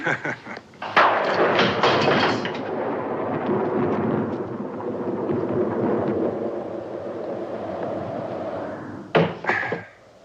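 Thunder from a close lightning strike cracks sharply, then rolls into a long, heavy rumble that slowly fades. A second sharp thump comes near the end.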